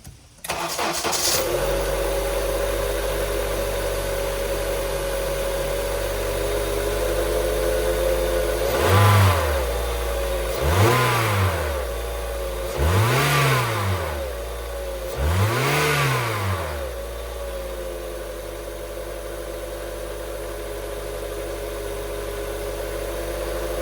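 A high-mileage 2003 Honda CR-V engine cranks and catches, then settles into a steady idle before four quick revs rise and fall in succession, each blip dropping back to idle, loud and close with no talking.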